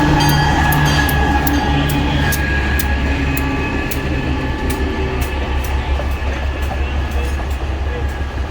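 A train rumbles steadily nearby, with rhythmic clickety-clack of wheels over rail joints and a low engine drone, while a person talks over it.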